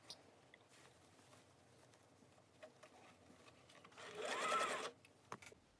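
Sewing machine making a backstitch on a sleeve seam: a short, faint burst of fast stitching, close and quiet, in a room otherwise nearly silent.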